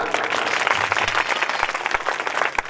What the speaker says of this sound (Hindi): मैं उनके लिए जोरदार ताली आपसे चाहता हूं